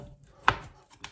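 Single sharp knife chop through meat on a board, one loud cut followed by two fainter knocks, close and alone, for a quick jar curry.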